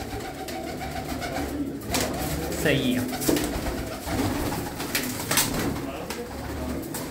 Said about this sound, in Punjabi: ਇਹ ਵੱਡੀ ਕਬੂਤਰੀ ਆ ਜੀ